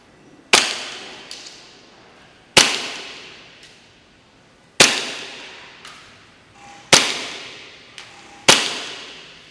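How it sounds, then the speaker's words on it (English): Five sharp, loud reports from an ICS BLE XAE gas blowback airsoft pistol fired outdoors, spaced about two seconds apart, each with a brief metallic slide clack and a short decaying echo. "let's go out here and get some shots in"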